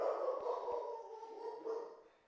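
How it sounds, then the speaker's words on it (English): A dog indoors at home goes wild, with faint, muffled barking and whimpery vocal bursts heard at a distance, a couple of sharp knocks early on, and the sound trailing off toward the end. "The dog is going crazy."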